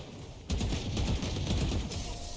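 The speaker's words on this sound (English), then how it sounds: "Guys, did you see those two shots?" Rapid gunfire in the Valorant video game, a dense burst of shots that starts abruptly and runs close and loud for about two seconds without any talk.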